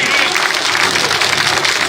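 A large crowd applauds at a village political rally in Hasanpur, Gannaur, producing a loud, dense, continuous wash of clapping with no break.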